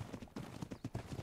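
A horse's hooves clip-clop at a quick, steady rhythm of repeated thuds in the video game ARK. The hoofbeats are fairly quiet and close, with no talking.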